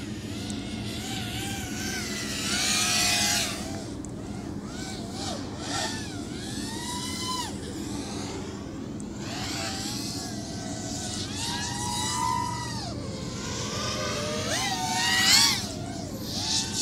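A flying racing drone with Racerstar SPROG-X 2205 motors whining and buzzing nearby, its pitch sweeping up and down steadily as the throttle changes, over a low background hum.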